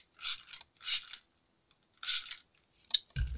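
Spray bottle misting over a resin butterfly tray: four short, close hissing bursts separated by pauses, ending with a brief low thump.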